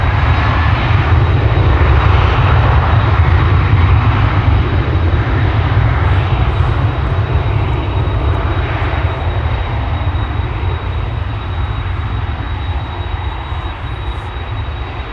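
ITA Airways airliner arriving at Schiphol Airport, a loud continuous engine roar that holds steady throughout and tapers only slightly near the end, with no talking.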